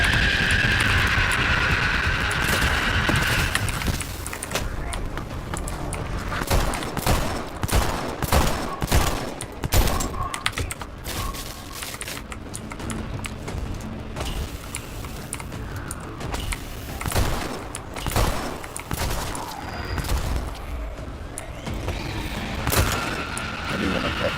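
Rapid bursts of gunfire in the zombie game Dead Island 2 as a screamer zombie is shot down, loud cracks in uneven clusters over steady game ambience.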